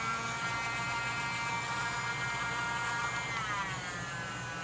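A small electric rotary tool with a polishing wheel runs steadily on a Tamiya Ferrari SF70H model kit, making a constant high-pitched whine and buzz, close and unbroken throughout.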